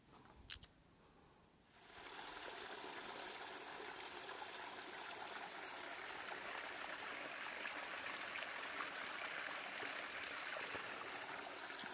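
A small stream trickles along a canyon trail in Butano State Park, a steady close babble of running water that starts after a brief quiet click and continues evenly, with no talk.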